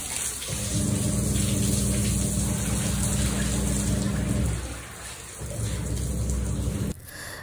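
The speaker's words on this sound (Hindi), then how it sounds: "तो अब यहाँ मैं पाइप के साथ सीढ़ियों पर पानी गिर रही हूँ" Water from a hose pours and splashes onto stairs at home in a loud, steady rushing spray with a deep undertone, easing briefly partway through before surging again and cutting off abruptly near the end.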